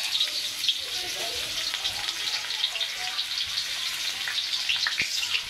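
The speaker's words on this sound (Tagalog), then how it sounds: "Ako ay magigisa na ng luya." Chopped ginger sautéing in a pan for a snapper dish with black beans and corn, giving a steady close hiss and crackle with faint clinks throughout.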